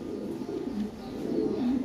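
Lahori pigeons coo in a low, steady rolling murmur, a pair kept in a cage, the soft throaty calls swelling slightly louder toward the end, with no talk over them.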